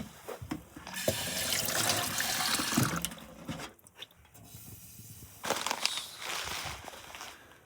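Water pours steadily at an outdoor campsite in two long splashing runs with a short pause between, close and fairly loud.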